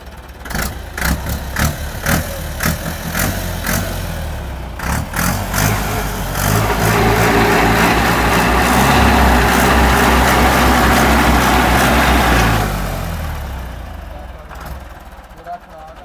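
A tractor engine turns over and catches after sitting unused for a full year, cranking in rapid pulses before settling into a loud, steady running roar that fades near the end, with voices talking over parts.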